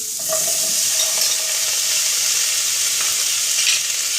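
Capsicum, tomato and onion shallow frying with salt for restaurant-style heeng aloo, giving a loud, steady sizzle with scraping stirs throughout and no voices.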